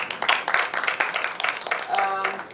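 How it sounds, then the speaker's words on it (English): Audience at a national forum breaks into a round of clapping, dense broadband applause running steadily for a couple of seconds with a brief voice-like tone near the end. "Can we please give them a round of applause?"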